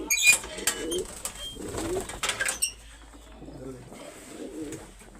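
Pigeons coo nearby in soft, rounded, repeated calls, a few low throaty phrases spaced across the stretch, with light rustling and clicks around them.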